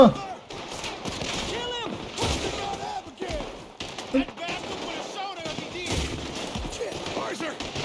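Gunfire during a bank robbery in the video game Red Dead Redemption 2, repeated shots and bursts mixed with game effects, heard under continuous excited talking.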